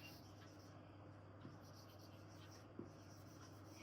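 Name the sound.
pen or marker writing a sentence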